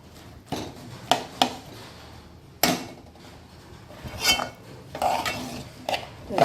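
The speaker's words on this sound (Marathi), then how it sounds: "व्यवस्थित आपण एकजीव करून घेऊया भाजीला" A utensil stirs ghevda bean vegetable in a pan, giving a series of sharp metallic clanks and scrapes at irregular intervals, some louder knocks and rattles among quieter scraping.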